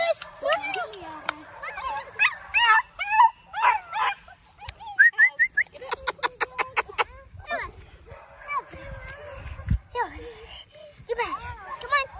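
Coonhound puppies whimper, yip and give short barks in close, rapid bursts, interspersed with high whines; a voice and other speech are heard among the puppy cries.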